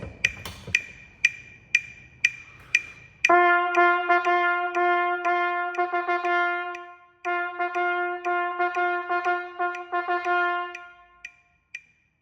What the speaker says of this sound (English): So I'm going to put my metronome on